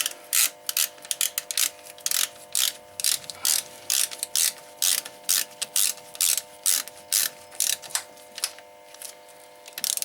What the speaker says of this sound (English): Okay, get your 14mm socket back on.